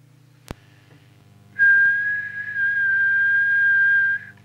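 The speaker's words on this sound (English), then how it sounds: "just do a quick whistle at approximately the same frequency, which is 1 kilohertz" A person whistles a steady tone of about 1 kHz into a Cybernet Beta 3000 UK CB radio during transmitter alignment, one sustained whistle lasting over two seconds after a single sharp click, over a low constant hum.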